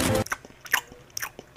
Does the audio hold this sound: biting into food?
yes